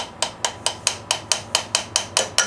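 A lawn tractor adjuster on a Massey Ferguson gets about eleven sharp metallic taps in a steady quick rhythm, close and loud, with no voices.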